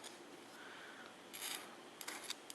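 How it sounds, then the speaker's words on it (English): A hand file lightly breaking the burred inside and outside edges of cut piston rings for a 440 Mopar big block engine, heard as faint short rasping strokes, a brief burst near the middle and a few quick scrapes toward the end. "I'm going to take my file and I'm going to break the edges just a little bit"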